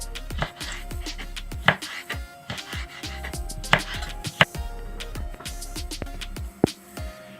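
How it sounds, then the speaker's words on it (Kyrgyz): A knife chops green bell pepper lengthwise on a cutting board for a funchoza salad, making steady close taps in an uneven rhythm with a few sharper knocks. "Болгарский перецин жашылын узунчасына турап алабыз"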